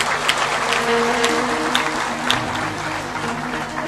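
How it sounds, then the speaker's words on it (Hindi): An audience applauds loudly and steadily throughout at a televised spiritual program, with dense clapping and a few sharper individual claps standing out. "जोर से ताली बजा दो।"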